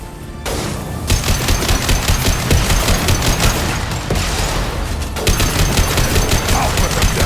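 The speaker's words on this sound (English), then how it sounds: "Firing concussive shot!" Concussive shot and rapid gunfire in Mass Effect 2, a dense, continuous barrage of overlapping shots and blasts filling the whole stretch, loud and close with a brief drop near the start and around the five-second mark.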